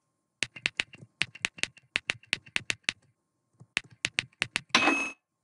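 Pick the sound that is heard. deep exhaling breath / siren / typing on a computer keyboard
typing on a computer keyboard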